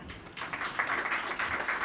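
A church congregation at a gospel service gives brief, faint, scattered clapping that lasts under two seconds.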